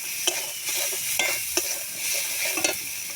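Cumin, chili powder, garam masala and tadka masala frying in oil for tadka dal, a close, steady sizzle broken by several sharp stirring scrapes, no voices.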